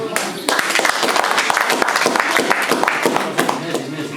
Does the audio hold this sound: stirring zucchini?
no